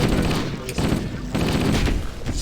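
Plasma rifle fire in Halo: Combat Evolved, a dense run of rapid energy shots bursting continuously across the moment, loud and close with game noise layered underneath.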